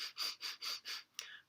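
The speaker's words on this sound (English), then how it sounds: "breath of fire is a light breath" Rapid breath-of-fire yoga breathing: five quick, light, evenly spaced sniffing breaths, close and soft, followed by a short exhale.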